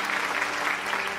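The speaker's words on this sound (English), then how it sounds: "Please give a huge round of applause to Subhash on that beautiful flute" An audience at a musical evening in Kochi, Kerala applauds a flute player, a brief, steady burst of clapping under a sustained tonal hum.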